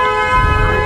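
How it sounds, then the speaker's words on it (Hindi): A KTM RC motorcycle's newly changed horn being tested blares loudly and steadily for under a second, a bright sustained tone with no break. "तो ये हॉर्न की चेकिंग हो रही है भैया"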